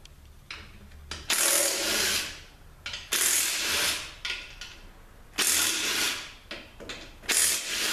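A ratchet backs bolts out of a 4R70W transmission pump in bursts of rapid clicking, each run lasting about a second and repeating several times with short pauses, close up and alone.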